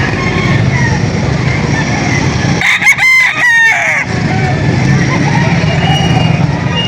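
Roosters crow repeatedly over the steady din of a crowded Lipa chicken auction market, with several birds calling loudly near and far and one strong crow standing out midway.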